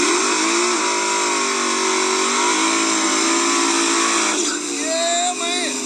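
A turbocharged LSX-powered Chevrolet Nova idles and revs loudly close by at a street drag shootout, a steady heavy engine drone with a shift in pitch near the end.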